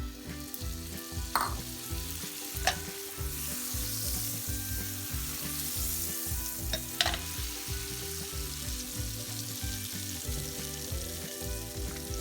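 Butter sizzles steadily in a well-heated pan, a continuous close crackle with a few sharper pops and spatters along the way, no voices.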